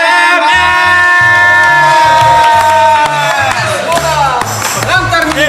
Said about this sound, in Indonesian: Kita sambut dengan tepuk tangan paling meriahnya